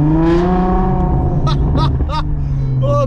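A loud million-euro supercar engine revs hard and close, a deep harmonic roar that climbs and holds, with a few short sharp bursts near the end and faint voices underneath.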